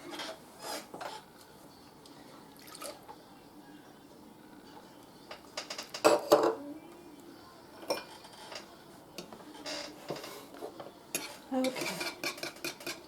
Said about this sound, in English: A 3/4 cup of milk. We're going to add and mix it.